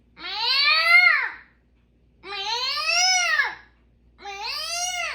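A voice imitates cats with three drawn-out, wavering meows, each rising then falling, separated by short pauses.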